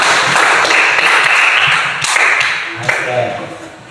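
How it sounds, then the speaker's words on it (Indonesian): Pupils in a classroom clap hands in a dense burst of applause that tapers off, with a few sharp taps and thuds, and voices briefly audible toward the end. "Ya, beri tepuk tangan."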